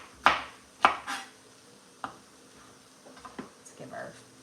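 A knife chops okra on a cutting board in a few sharp, separate knocks, loud at first and then softer and more scattered, with speech in the background.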